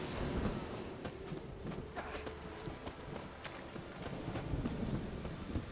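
Horse hooves clip-clop steadily in The Witcher 3: Wild Hunt, a continuous rhythmic run of hoofbeats on the ground at moderate volume, with no talk over it.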